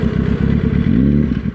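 A Yamaha R1 motorcycle with six-piston brakes is braked hard, giving a loud, close engine drone that winds down in pitch with mechanical clatter.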